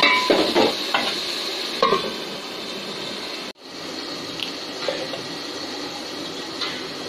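Curry being sautéed in a pan, with a steady sizzling fry and intermittent scraping stirs, loud and close, briefly cut by a short gap midway.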